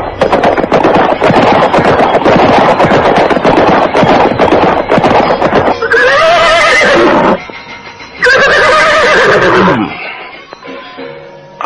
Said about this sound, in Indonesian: Namun Kuda Parasuta semakin kencang memacu kudanya.